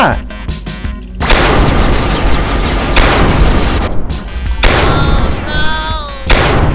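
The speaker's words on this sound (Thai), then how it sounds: "เหมือนมันกำลังยิงอะไรลงมาที่ ไดโนเสาร์เราเหรอ" An alien in a video game fires down at dinosaurs, producing loud, dense booming blasts and rumbling gunfire that run almost continuously with short breaks, mixed with other game noise.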